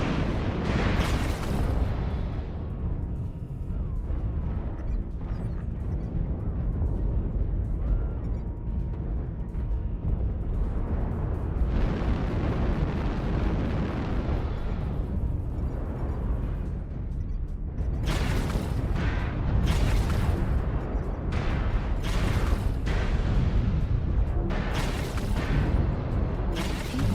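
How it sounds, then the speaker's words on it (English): Artillery strikes in MechWarrior Online rain down as dense, continuous loud booms and rumbling blasts, with clusters of sharp bursts near the end and a heavy low roar underneath. "Artillery strike activated."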